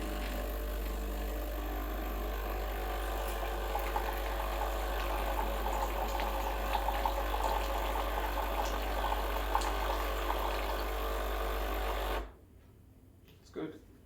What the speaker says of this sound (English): to fill your cup with hot water